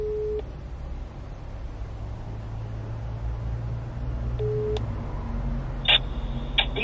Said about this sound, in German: Hey Siri, Marco Prestin anrufen.